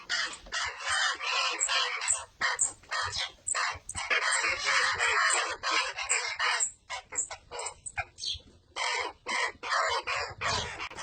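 Several baby ravens calling eagerly to be fed, a dense run of loud, harsh, rasping squawks and begging calls close by, overlapping almost continuously with short gaps.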